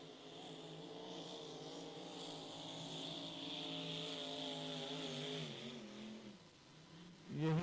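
An unlimited hydroplane racing boat's engine drones loud and steady at speed, then the pitch wavers and drops as the driver backs off the throttle, before a brief low surge at the end.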